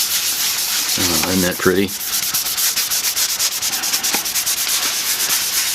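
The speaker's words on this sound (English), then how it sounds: "makes a good way to rub your chalk, and it doesn't get all over your fingers and stuff" Chalk rubbed and blended across paper for a pastel sky in a sailboat reflection picture, a steady close scratchy rubbing that runs throughout, with a short spoken comment near the start.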